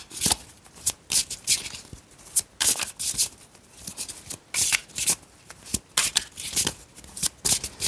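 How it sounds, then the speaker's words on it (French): Tarot cards riffled and shuffled by hand, with repeated crisp bursts of card flutter and slaps close by, no talking, as three cards are drawn for a monthly reading. "je vais vous prendre donc 3 cartes"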